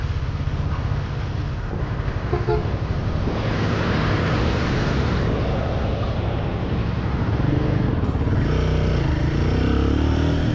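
A Royal Enfield Guerrilla 450 motorcycle's 450 cc engine hums while riding, mixed with heavy wind rush over the microphone. It stays steady and close, with a rise in revs toward the end.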